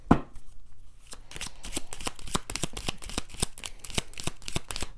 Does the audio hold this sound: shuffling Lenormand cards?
yes